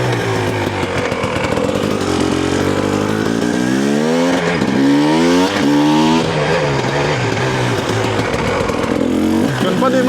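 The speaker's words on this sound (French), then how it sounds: "on va essayer la moto, le 300 TPI du coup." KTM 300 TPI two-stroke dirt bike engine being ridden, loud raspy revving that rises and falls in pitch as it accelerates and shifts, close and continuous.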